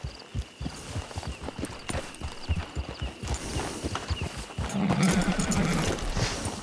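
Horse hooves clip-clop at a walking pace in Red Dead Redemption 2, a steady run of soft close hoofbeats that grows busier and louder toward the end, with a low snort or whinny near the close.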